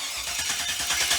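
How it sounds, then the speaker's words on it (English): A junkyard LS V8 fitted with an HEI distributor cranks over on a cold start, a rapid rhythmic churning with uneven firing as it tries to catch, loud and close. "Ignition on, fire and hold"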